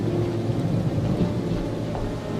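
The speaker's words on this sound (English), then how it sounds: "I see that Baal is sending us rain." Thunderstorm with rain: a low, steady rumble of thunder with rain hiss, loud and continuous through the short stretch, with no voices.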